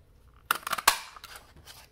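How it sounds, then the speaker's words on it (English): A 1 3/4 inch circle punch cuts through a scrap of paper, giving a quick cluster of crisp snipping and crunching clicks followed by a softer click, close and fairly quiet. "This time I'm using a circle punch of any sort."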